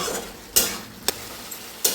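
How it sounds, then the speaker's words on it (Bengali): A spatula stirs fried bitter gourd together with boiled potato and pumpkin in a pan, giving soft scraping under a low sizzle with three sharp clacks against the metal. "এবার আমি একসঙ্গে সব ভালো করে মিক্স করে দেব"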